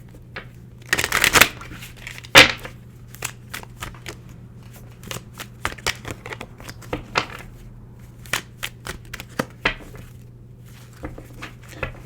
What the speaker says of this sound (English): Let's continue to shuffle a little bit more.